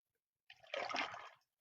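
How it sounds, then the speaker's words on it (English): Hibiscus tea concentrate is poured over ice in a pint glass, a brief soft splash and trickle lasting about a second after a quiet start, with no talking. "fill your pint glass with ice, and then take your concentrate and pour it over"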